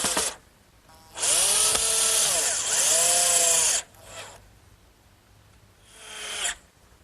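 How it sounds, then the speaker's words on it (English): A power drill pre-drills holes in a cedar sandbox frame for screws: a long whining burst that rises and falls in pitch, then two shorter bursts separated by pauses, loud and close. "I want to make sure I take the precaution of pre-drilling so I won't split this nice cedar."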